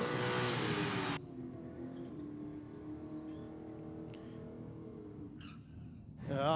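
A Subaru WRX revs hard at a drag strip, opening with a loud, buzzing engine roar that cuts off abruptly and drops to a lower, steady idle-like hum before surging again at the end.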